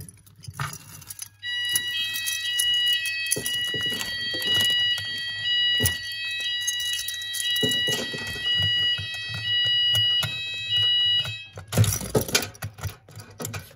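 Fire alarm sounder on an Apollo XP95 addressable system sounding during a house alarm test, a steady tonal whine held for long stretches with brief breaks, alongside key jangling and handling noise up close.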